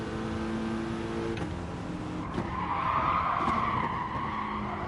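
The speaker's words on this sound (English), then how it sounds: "my anger at going wrong has caused me to crash" Tyres skid and squeal in a Gran Turismo race as a car loses control and crashes, engine noise droning steadily beneath a longer screech that swells midway through.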